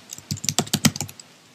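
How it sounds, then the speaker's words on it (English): Fingers type on a computer keyboard in a quick burst of about a dozen crisp, close key clicks with a slightly uneven rhythm, alone and without any talk. "And now type that."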